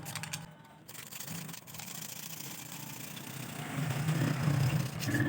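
A steady gritty rubbing and grinding of emery inside a half-shuttle sewing machine shuttle, close and fairly quiet, growing slightly louder toward the end.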